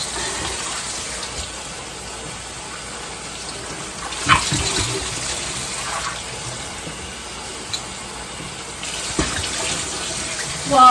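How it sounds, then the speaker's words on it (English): Water runs steadily while a glass bottle is rinsed out, a continuous splashing hiss broken by a few brief clunks of glass near the middle and end. "Just want you guys to see what the bottle looks like after I rinse it out."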